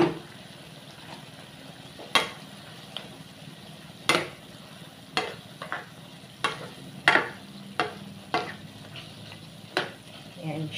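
Scrambled egg frying in a pan with patola (sponge gourd), a steady soft sizzle with repeated sharp scrapes and clinks of a spatula stirring, fairly close, no talking.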